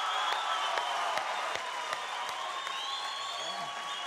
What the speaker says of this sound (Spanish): Recibamos con un aplauso a los Hermanitos Medio.